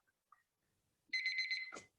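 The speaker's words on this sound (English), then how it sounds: "my timer's going off" A timer alarm goes off in a quiet room, a rapid pulsing electronic beep lasting under a second and ending in a short clatter, with a faint tick before it and no talking.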